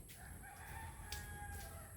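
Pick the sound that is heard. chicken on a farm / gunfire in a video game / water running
chicken on a farm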